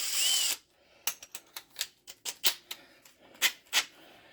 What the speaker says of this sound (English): get some of these holes drilled out